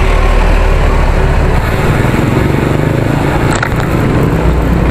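A motorcycle engine passes on a road during a group bike ride in the Philippines, a loud, continuous roar heard close up over heavy wind and traffic noise, with no speech.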